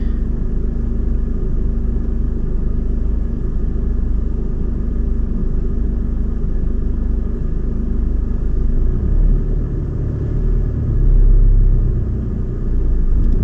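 A car pulls into a bay at a West Didsbury driving test centre with a steady low engine rumble close by that swells briefly near the end. No one speaks.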